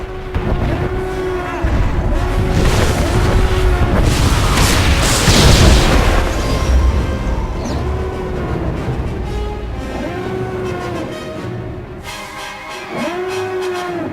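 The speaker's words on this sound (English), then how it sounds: "Incoming fire! All hands, brace for incoming!" Deep booming blasts of incoming fire in Star Wars: The Old Republic rumble repeatedly over a droning, wavering alarm-like tone, loud and close, with a heavier burst in the middle.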